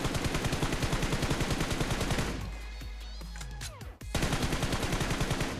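Rapid automatic gunfire from PUBG Mobile shooting practice, loud bursts that pause briefly before firing resumes.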